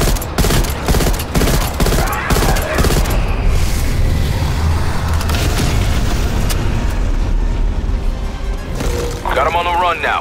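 A decoy grenade goes off in Call of Duty Black Ops Cold War, giving loud rapid bursts of fake gunfire and booms that run continuously over dense battle noise, with voice chatter mixed in.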